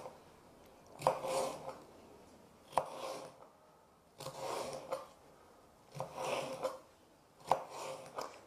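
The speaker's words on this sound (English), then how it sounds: "now carefully I'm going to cut it into strips, keeping my fingers away from the knife" A knife slicing chilli ingredients into strips on a board, five or six separate bursts of close rasping cuts, each ending in a sharp tap, with quiet pauses between.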